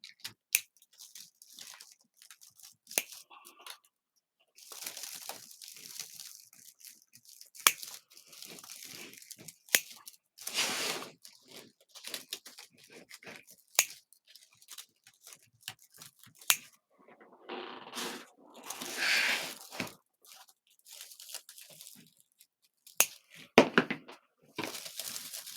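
Scissors snip off zip tie tails around a Santa deco mesh wreath on an oval board, giving repeated sharp cuts with crinkling mesh and rustling in between, close up and irregular.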